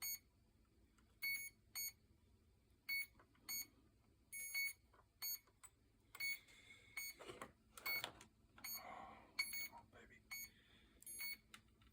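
A drone being rebuilt beeps in repeated short, high electronic pulses at a steady rhythm, fairly faint, with someone speaking over the later beeps.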